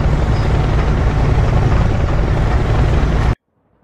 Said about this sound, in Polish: Tam jest jeszcze helikopter, mam nadzieję, że to jest nasz.